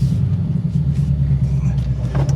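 A manual-transmission Ford Crown Victoria begins rolling, its engine making a close, steady low rumble with a faint rise in the last moments.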